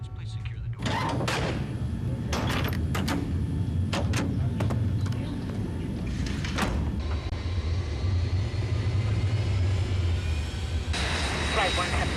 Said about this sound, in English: Flight attendants, please secure the door.